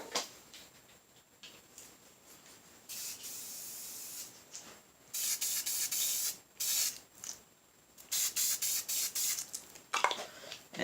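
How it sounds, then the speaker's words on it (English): Spray paint misted on in light, quick coats from a distance, heard as a series of close, short hissing bursts with brief pauses between them. "The farther away you are and the quicker you spray it,"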